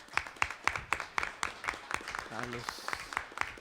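Audience at a public hearing on a general water law applauding with steady, moderately loud clapping throughout, while a voice speaks briefly over it.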